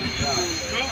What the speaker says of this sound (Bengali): কামরূপ এক্সপ্রেস ঢুকে গেছে